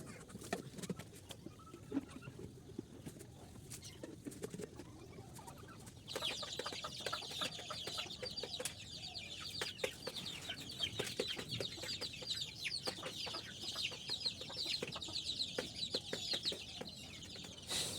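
Native chickens in a cage on a farm cluck continuously at close range, joined by a brighter chorus of chirping about a third of the way in, with rustling and tapping sounds throughout.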